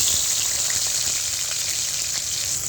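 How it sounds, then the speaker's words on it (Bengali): Boiled potatoes go into hot oil in a wok already seasoned with cumin seeds and bay leaves, giving a loud, steady hiss and sizzle that carries evenly through the whole stretch with no voices. "এখানে একটু আলুটা যে সিদ্ধ করে রেখেছিলাম সেটাই দিয়ে দেব।"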